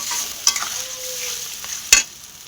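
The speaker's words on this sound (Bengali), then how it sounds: "মশলাটা ভালো করে কষে নেব।" Masala sautéing in a pan gives a soft background sizzle, broken by two sharp metallic knocks of a spoon against the pan and a few lighter scrapes, close up.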